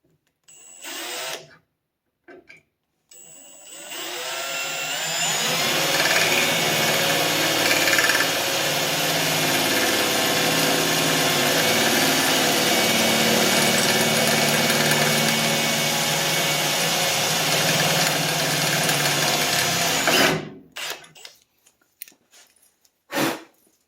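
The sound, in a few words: power drill drilling a pilot hole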